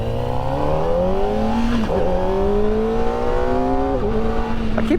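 Kawasaki ZX-4RR motorcycle engine revving hard and climbing steadily, with two sharp dips as the quick shifter snaps through upshifts, loud and continuous throughout with no talk.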